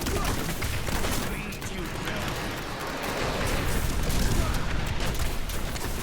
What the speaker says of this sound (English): Good explosions.